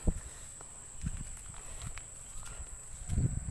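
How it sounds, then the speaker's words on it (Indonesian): Goats arriving and walking across a farm field near harvest time, with scattered soft hoof steps and light shuffling at close range; low and uneven, with a slightly busier patch of steps toward the end. "Itu kambing sudah mulai datang."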